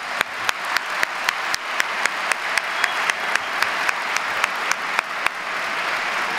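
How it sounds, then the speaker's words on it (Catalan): An audience claps steadily for the group Cor de Carxofa, dense applause in a hall carrying on throughout with a few sharper individual claps standing out. "Un aplaudiment per ells i pel caloret"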